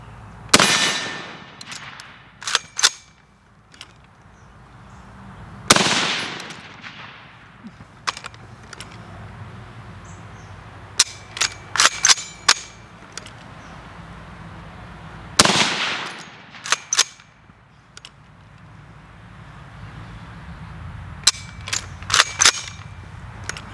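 An 1861 Springfield rifle firing paper cartridges outdoors, with three loud, sharp reports spaced several seconds apart, each trailing off in a long echo, and scattered quieter cracks and clicks between them.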